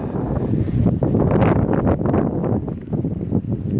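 Gusty wind buffets the microphone in a steady low rumble, loud and close, with no voices, on the Appalachian Trail in February.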